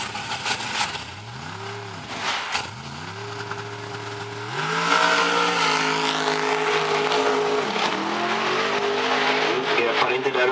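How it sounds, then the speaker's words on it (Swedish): A Dodge Avenger drag racing car making a qualifying run at a drag strip, its engine rising and falling in pitch before a sustained louder roar, with a commentator's voice over it. "Jan Eriksson med sin Dodge Avenger kval 3 från igår."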